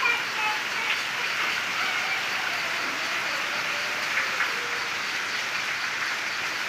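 Steady rain falls outdoors in a coastal village during the monsoon, a dense, even hiss that stays loud and constant throughout with no pauses.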